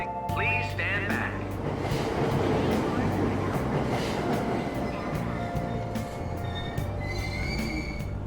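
Train wheels squeal and rattle as a subway train pulls out of Aoyama Ichome station in Persona 5 Royal, a steady close rumble with high metallic screeches, under chimes and a faint voice.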